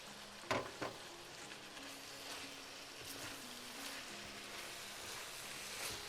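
Karela aloo with cilantro and green chilies is stirred in a sizzling pan. A couple of sharp spoon scrapes come early, then a soft, steady frying hiss with faint utensil knocks.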